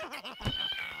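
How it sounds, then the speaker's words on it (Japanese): A cat meows in a brief wavering call while someone speaks during a session of the party video game Party Panic. "猫の声が聞こえる。"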